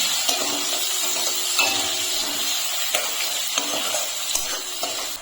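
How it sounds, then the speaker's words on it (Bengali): Chopped onion and garlic fry in hot oil, a steady soft sizzle with occasional light clicks of stirring, close and fairly quiet, no voices. "পেঁয়াজ আর রসুনটাকে আমি একটু ভেজে নেব।"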